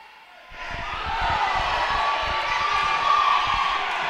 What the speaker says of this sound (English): It's going to be hard for you to hear us over this crowd.